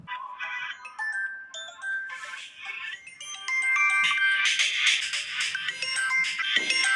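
A mobile phone ringtone plays a bright electronic melody, steady and close, with the notes growing fuller and louder partway through and no one talking over it.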